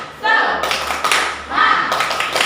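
Classroom group clapping the rhythmic 'tepuk semangat' chant, a short run of sharp claps with voices calling along, fairly close and loud in a school setting.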